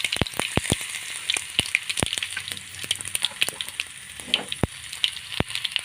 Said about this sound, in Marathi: 1 चमचा लसूण बारीक करून घेतलेला आहे, तुम्ही याच्यात टाकणार आहे तेलामध्ये.